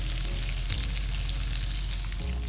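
A salmon fillet laid skin side down in hot infused oil sizzles and crackles steadily in a pan, close and fairly quiet, with no talking.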